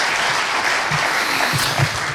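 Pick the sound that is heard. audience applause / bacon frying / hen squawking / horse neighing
audience applause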